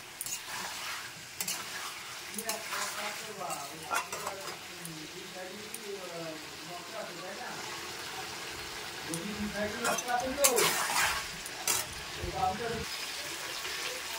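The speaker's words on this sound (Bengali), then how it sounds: "ভালো করে মশলা দিয়ে আমি কিন্তু নাড়িয়ে চাড়িয়ে দেবো, যাতে মাংসের মধ্যে মশলাটা চলে যায়" Mutton and spices in a pot are stirred with repeated scraping and clattering over a low sizzle, louder toward the end, while a voice talks intermittently.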